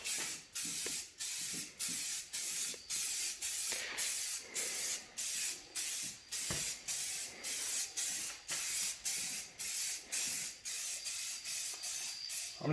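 Spray can paint misting onto plastic truck parts in rapid short bursts, a dense hiss cut by quick regular pauses through the whole stretch, close and steady, no talking.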